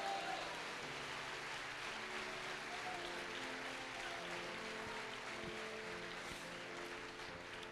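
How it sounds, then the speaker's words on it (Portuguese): Sustained applause from a church congregation during a Sunday communion service fills the space, steady and dense throughout, with some voices and low tonal sounds underneath. "dá uma salva de palmas para Jesus aí"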